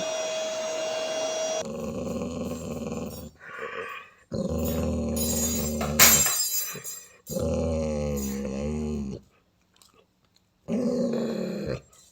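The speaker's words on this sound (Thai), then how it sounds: "นี่ต้องใช้เครื่องดูดฝุ่นช่วย ออกไหม เอาเครื่องดูดฝุ่น" A vacuum cleaner runs loud and close in several bursts, switching on and off with short gaps, while a dog growls alongside.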